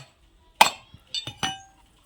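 A coconut is struck a few times in quick succession, giving sharp, hard knocks close by: one strong hit followed by a light tap and two more cracks, with near silence in between.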